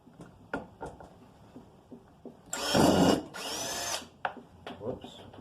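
Power drill backing Phillips screws out of a panel, two loud whirring bursts in the middle of a stretch of clicks, knocks and handling noise.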